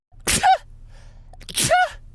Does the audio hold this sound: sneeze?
yes